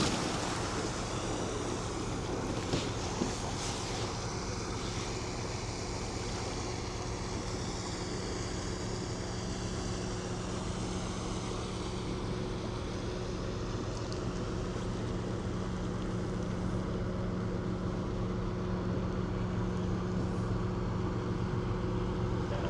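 A boat, the Kathy McKeil, passes and throws a heavy wake, heard as a continuous broad wash of water and surf with a steady low engine hum and some wind buffeting throughout.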